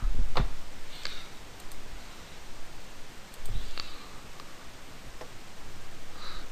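Someone types on a computer keyboard while setting up a router through a web browser. The keystrokes come as sparse, isolated clicks, close and fairly crisp, over a quiet background hiss.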